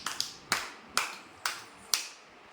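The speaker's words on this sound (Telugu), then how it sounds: "క్లాప్స్ కొట్టండి" Young children at an anganwadi preschool clapping hands after a counting puzzle game, five distinct spaced claps in an even rhythm, fairly close and with no talking over them.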